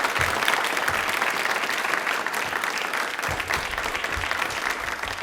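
Loud studio audience applause on a Rajasthan TV general-knowledge quiz show, dense clapping from many people that swells and holds steady, close and full, with no speech over it.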